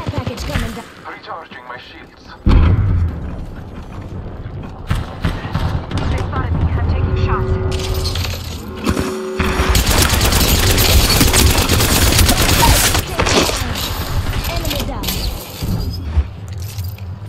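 Video game gunfire comes in bursts of rapid shots and loud cracks, mixed with impacts and other game effects, while a player talks over the action.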